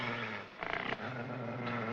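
A guard dog growls low and close in a wooded setting, a sustained rumbling snarl that briefly swells into a harsher, pulsing burst midway before settling back to a steady growl.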